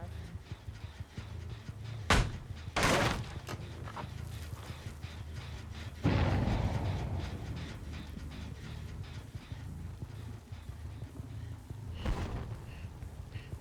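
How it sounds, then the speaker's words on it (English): A sudden explosion in the Dead by Daylight video game during the 2v8 mode, a broad boom that rumbles and fades over a few seconds amid quieter game sounds, with earlier sharp thuds. "I don't know if that explosion was them blowing it or something else, but I heard an explosion"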